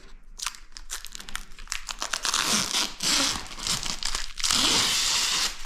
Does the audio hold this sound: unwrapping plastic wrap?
yes